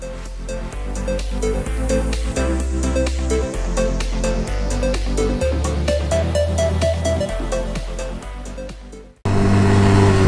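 A motorcycle engine drones loudly and steadily while riding, the pitch stepping up and down through gear changes before an abrupt shift to rougher wind-like noise near the end.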